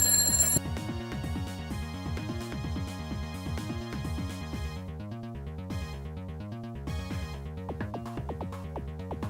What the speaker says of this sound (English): I forgot I changed the setting on that alarm.